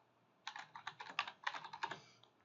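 Rapid typing on a computer keyboard as a search term is entered, a quick burst of about a dozen crisp key clicks close to the microphone, fairly loud and uneven in rhythm, with a short pause midway.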